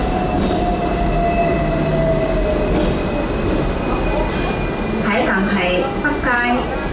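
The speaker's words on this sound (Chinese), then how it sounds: "This tram goes to Happy Valley." Hong Kong tram running, a steady loud rumble of wheels and motor with a faint squeal, while a recorded voice announces the route and next stop.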